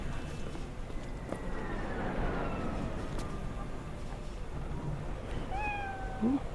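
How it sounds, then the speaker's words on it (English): A cat meows in Cyberpunk 2077 gameplay, a few drawn-out falling mews over a constant low background hum, with a sharper rising cry near the end. "Ooh, what a cute cat."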